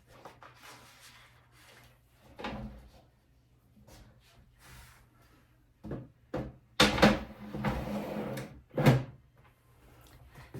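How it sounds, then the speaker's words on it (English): Quiet hissing gives way to a few soft clunks and slides, ending with firmer thuds near the end, like a heat-press oven drawer opening and shutting during DTF shirt printing. "open the drawer and place the print in and close the oven"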